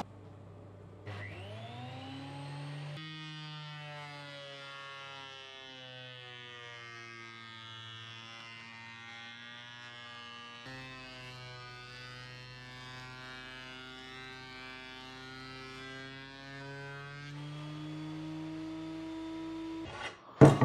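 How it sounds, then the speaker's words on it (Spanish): A thickness planer feeds pallet wood through its cutter, a steady loud machine whine with a harmonic hum that holds for about fifteen seconds before spinning down, with a short clatter at the end. "Así que venga, vamos a darle caña a la regruesadora."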